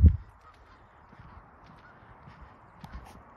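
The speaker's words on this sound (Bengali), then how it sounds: "অনেকগুলো হাঁস আছে" A flock of ducks at a conservation area in Whitby, Ontario gives one loud, close honk at the start, followed by a few faint, scattered calls over quiet surroundings.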